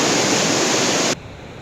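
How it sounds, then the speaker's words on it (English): Heavy glacial meltwater surges from beneath the snout of the Kangla glacier in the Himalaya, a loud, dense broadband roar that cuts off abruptly to a quieter wash near the end. "Heavy water currents coming out of the tip of the Kangla glacier."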